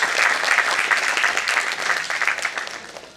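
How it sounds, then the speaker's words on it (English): An audience claps steadily in a warm, sustained round of applause that fades slightly toward the end, with no voices standing out. "Please guys, give a huge round of applause."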